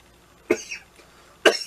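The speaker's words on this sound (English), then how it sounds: "This is the coughing and hacking." Two sharp coughs about a second apart, close and fairly loud, the first trailing into a raspy hack, with quiet between them.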